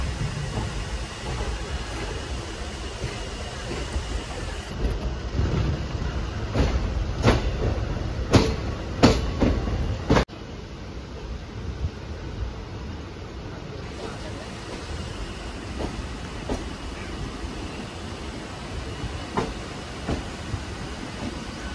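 The Shamli–Delhi passenger train 05000 stands at Delhi Shahdara Junction, with rumbling rail noise, a burst of clanks and knocks midway, then quieter station ambience and faint voices.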